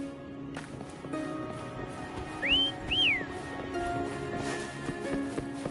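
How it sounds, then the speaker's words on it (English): Two short rising-falling whistles in Wuthering Waves, calling Foam, sound over a steady game ambience with faint hoof clip-clop underneath. "Try whistling."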